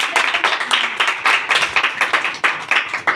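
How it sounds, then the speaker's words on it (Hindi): A congregation at a Thursday church meeting claps hard in a quick, rhythmic beat, each clap sharp and close, for about three seconds. "कलाम पेश कर जोरदार ताली"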